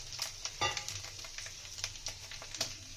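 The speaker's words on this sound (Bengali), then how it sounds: "তেলের মধ্যে ফোড়ন দিয়ে দেবো, তেজপাতা আর গোটা জিরে।" Bay leaf and whole cumin seeds sizzling in hot oil, a crisp continuous frying hiss with small pops and crackles, fairly quiet and close, with no talking.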